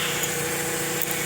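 A Toyota Vios with a dual VVT-i engine, restarted after months of sitting unused, idles with a steady, even hum up close, without any talking.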